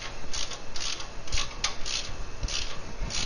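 A valve spring compressor being cranked down on an LS engine, giving a close, rhythmic scraping and rasping with quick metallic ratchet-like strokes repeating about every half second.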